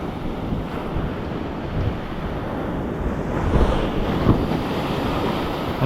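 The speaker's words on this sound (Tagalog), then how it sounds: "Malalaki ang alon mga kasuyo." Big ocean waves break and wash steadily onto the shore, a continuous loud surf roar mixed with wind buffeting the microphone and swelling slightly toward the end.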